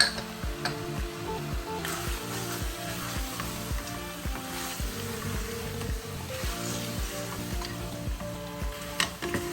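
Mutton and bitter gourd frying in a pan with turmeric and garam masala being stirred in, giving a steady close sizzle broken by irregular scraping and stirring strokes, with no talk.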